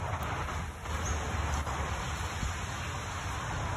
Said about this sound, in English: Keep raining, world, keep raining.